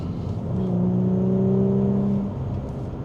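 An Audi S5 is driven flat out through a corner, its engine rising in a sustained, loud rev that holds for a second or two and then eases off, heard from inside the car.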